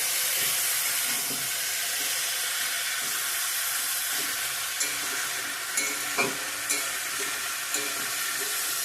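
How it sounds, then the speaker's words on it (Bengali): Potato, tomato and eggplant curry fries in a pan, with a steady loud sizzle running throughout and a few soft stirring knocks near the end. No one speaks. "খুলে নেব এখন ঢাকনাটা ভালো করে ভেজে নেবো"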